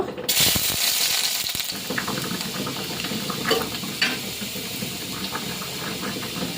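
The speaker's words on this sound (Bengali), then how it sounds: "এবার রসুন ভেজে নেব" Garlic fries in hot oil in a kadai alongside dried red chillies, giving a steady close hiss with a sharp burst at the start and occasional faint clinks of stirring.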